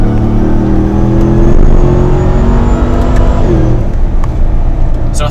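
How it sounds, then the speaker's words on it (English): A 1,000-horsepower Hellcat V8 engine roars loudly and steadily at high revs, its deep rumble holding for several seconds before easing slightly near the end. "V8 Hellcat engine on full chat"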